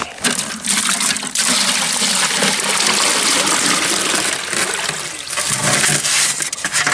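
Water gushes and splashes into a heated pail set out for goats on a farm, a loud and continuous pour that briefly breaks off and then resumes.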